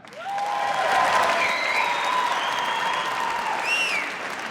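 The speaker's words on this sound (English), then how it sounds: "Round of applause if you were hit as a child." A stand-up comedy audience breaks into applause, a dense, steady wash of clapping that holds for several seconds, with a few whistles and cheers rising near the end.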